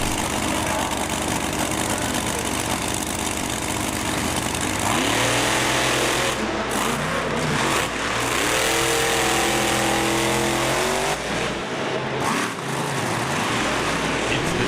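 Monster trucks, including Bigfoot and Quad Chaos, race in a semifinal at Bristol Motor Speedway; loud, continuous engine roar fills the arena, rising in revving sweeps as the trucks accelerate, with crowd and announcer noise blended underneath.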